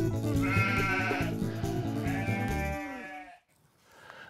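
A goat bleats loudly and close, two long wavering calls back to back, then near silence, as goats are sprayed in a livestock crush.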